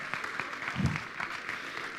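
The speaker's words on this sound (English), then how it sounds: "Please give her a round of applause." An audience gives a round of applause at a civic ceremony, a soft, distant, continuous patter of many hands that stays steady, with one brief low thump partway through.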